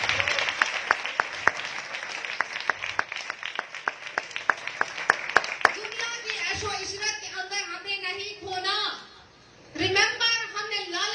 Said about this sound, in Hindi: यीशु मसीह के जलाल के लिए जोरदार तालियां।